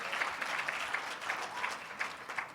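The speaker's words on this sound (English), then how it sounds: "Let's give each one of them a round of applause." Audience applause after a lecture-style talk, a steady patter of many hands clapping that stays fairly quiet and distant throughout, with no voices rising above it.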